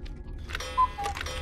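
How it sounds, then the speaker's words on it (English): Grandfather clock in the video game MADiSON, ticking with soft, evenly spaced ticks and a couple of brighter metallic strikes over a low ambient hum, no voices. "This one is ticking as well."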